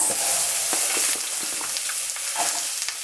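Onions frying in coconut oil for a vegan Jamaican patty filling, a steady close sizzle with light crackles and soft stirring.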